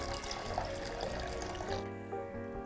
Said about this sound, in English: Then add 1 cup of cold water.